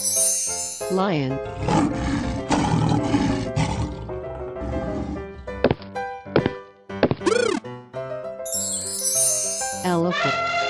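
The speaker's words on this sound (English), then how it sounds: "Lion." A lion's roar rings out from a children's wild animal game, rising and falling over bright jingles and chimes with musical backing, loud and close.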